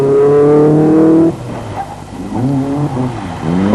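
A rally car works through a corner at the 1996 Snowline Rally near Ohakune, its engine loud and close, holding a high rev before dropping off, then climbing again through gear changes as it accelerates away.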